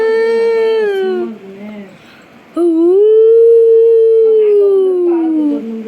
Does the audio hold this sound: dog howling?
yes